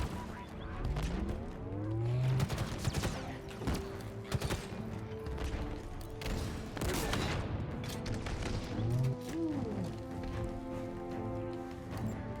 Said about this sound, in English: Ooh, machine gun, machine gun.